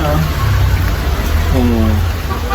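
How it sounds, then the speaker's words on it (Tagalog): Rain falling as a loud, steady hiss outdoors, with people talking nearby over it throughout. "Wala na, ulan na."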